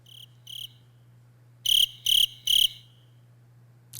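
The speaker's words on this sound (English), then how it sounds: "Crickets." Crickets chirp as a sound effect in crisp, loud bursts: two short trills, a pause, then three evenly spaced trills, with a brief chirp at the end over a low steady hum.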